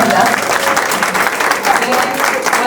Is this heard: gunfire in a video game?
no